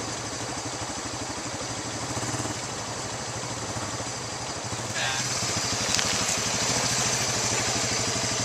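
A quad bike engine running in first gear on a steep downhill track in New Zealand. It gives a steady close chugging drone that grows slightly louder partway through, with people talking over it.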